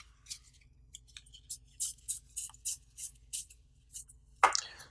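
Magic: The Gathering Aether Revolt booster pack being torn open, a series of short crisp foil crinkles and rips in an uneven rhythm, close-up, ending in a louder tearing burst.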